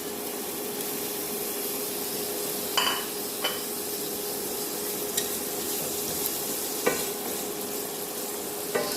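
Dry chilies, garlic and onions fry in a pan with a constant loud sizzle, punctuated every couple of seconds by short scraping strokes of a spoon stirring them.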